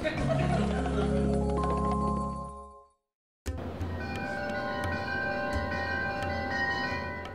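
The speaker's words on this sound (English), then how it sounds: "Stacy, ring the chimes." Bright, resonant chimes ring out and fade. After a brief silence, a second ringing follows, lingering with shimmering overtones.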